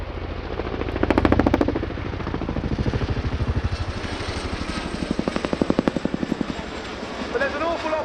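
An RAF Chinook HC.6 twin-rotor helicopter flying a display at the Cosford airshow, its rotors beating in a fast, loud rhythmic thud that rises and falls, while a commentator talks over it.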